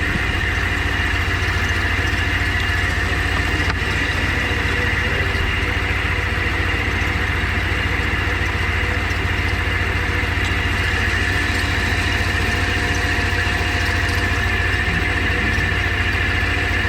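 A truck engine idles during a tensioner pulley repair. It gives a steady, close mechanical drone with a constant low rumble and an even hum, unchanging for the whole stretch, with no talking.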